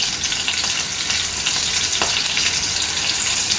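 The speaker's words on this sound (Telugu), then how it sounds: "మిరపకాయలు కొంచెం వేగాలి. ఇందులో" Dry red chillies frying in hot oil for a Telugu methi perugu pachadi, a steady close broadband sizzle with faint stirring clicks throughout, no voices.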